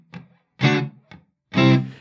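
A dry, effect-free guitar signal: four short plucked phrases separated by silences, each note stopping abruptly with no ambient tail, played close and alone.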